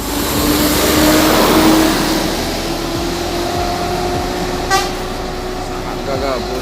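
A PMH Gracia Jetbus coach rumbles past nearby with its engine revving, then gives several short horn toots near the end, loud and close, with people talking in the background.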